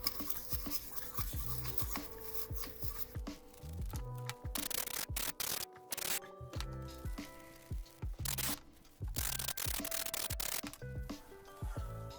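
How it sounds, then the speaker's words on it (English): Brush scrubbing on a tractor starter part to clear out oil and grease: quick, close, irregular bristly rubbing strokes with short pauses between bursts. "just kind of give that a little light scrubbing"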